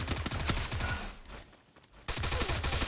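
Rapid MAC-10 submachine gun bursts in the Free Fire battle royale game, loud close automatic fire with many quick shots, a short lull around the middle, then another dense burst.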